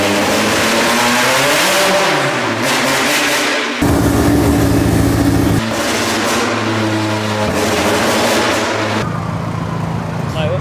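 All-motor nitro-fed K-series Honda EG race car engine revving hard on a dyno, a loud, sustained high-rpm scream with rising and falling pitch sweeps and shifts, close up, with voices faintly underneath.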